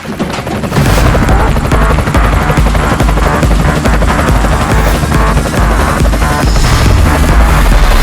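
A helicam camera drone flies close by on a stage set, its rotors giving a loud, continuous buzzing whir that starts up after a brief quieter moment and holds steady throughout.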